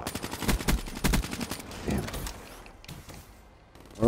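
Black Ops 3 gunfire: a quick burst of sharp, evenly spaced shots rattles out for about a second and a half, then thins into scattered fainter hits and a sudden loud clack at the very end.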